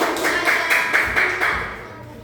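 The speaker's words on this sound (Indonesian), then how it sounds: "tepuk tangan untuk kelompok" Students in a classroom clap together for a group, a steady run of rhythmic claps about every quarter second, fairly close and alone with no talking.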